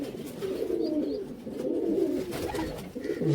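Pearl-eyed flying pigeons, a male and a female, cooing in a steady low rolling murmur that carries on without a break, close by and fairly soft, with no voices.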